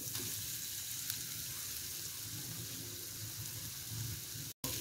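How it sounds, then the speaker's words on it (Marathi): Potatoes sautéing in a pan for a batata vada filling give a steady, close sizzle and fry that holds evenly throughout, with a short dropout near the end and no voices. "आता छान आपण भाजी ही परतवून घेणार आहोत।"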